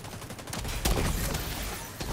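Turret gunfire in The Division 2 video game: a dense, continuous crackle of rapid shots with one heavier impact near the middle, loud and busy throughout with no clear pauses.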